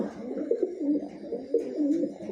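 A racing pigeon cooing close by, soft low throaty coos repeated in a rolling rhythm, alone with no talking.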